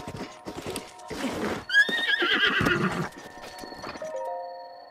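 A horse in the video game The Legend of Zelda: Breath of the Wild whinnies loudly in a long rising-and-falling call, framed by clip-clop hoofbeats before and after, with a brief soft tone near the end.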